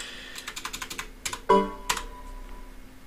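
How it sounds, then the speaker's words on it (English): Keys clatter on a computer keyboard in a quick run of light clicks, followed by a couple of louder, sharper keystrokes and a brief pause. "we're going to type in 98lite.exe"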